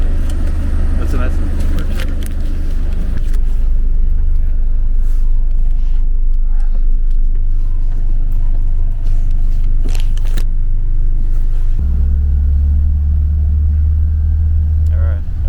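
Bus riding from Cluj to Turda, its engine a steady low rumble with road noise and occasional knocks, deepening into a louder engine drone toward the end.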